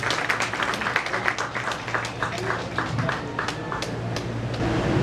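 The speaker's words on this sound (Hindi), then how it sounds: "जोरदार तालियों के साथ में" An audience claps loudly at a spiritual discourse gathering, with a dense patter of many hands under a low steady hum and occasional voices.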